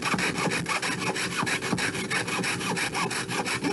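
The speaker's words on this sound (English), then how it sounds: "You can watch my concentrating sawing phase." Quick, even strokes of a jeweler's saw grind through metal for a necklace, a close rhythmic rasping that never stops.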